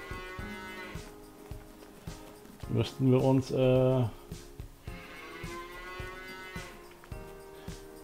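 Cattle in a farming video game moo loudly in a pair of drawn-out calls near the middle, while someone talks in German before and after.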